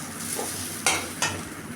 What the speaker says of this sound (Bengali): প্রথমে আজকে আলু ভেজে নিচ্ছি